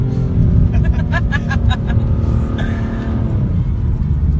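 A BMW M3 sports car engine roars loudly up close, revving with rising and falling pitch as it accelerates through gears on a twisting road, with a brief voice underneath.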